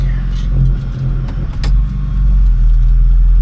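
A 6.4 Powerstroke diesel truck engine with a VGT turbo idles with a steady low rumble, loud and close, with a faint turbo whine and slight revving swells.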